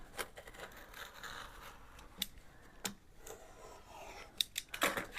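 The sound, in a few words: scissors trimming a vintage book's pages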